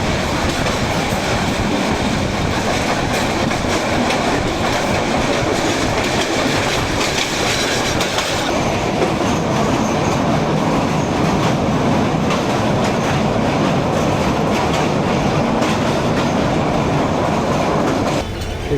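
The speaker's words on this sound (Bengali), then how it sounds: "আমাদের ট্রেন ঢাকা বিমানবন্দর থেকে ছাড়লো।" Tista Express train pulling out of Dhaka Airport station, a loud, steady rumble with rhythmic clickety-clack of wheels on rail joints continuing throughout, heard from inside a crowded coach.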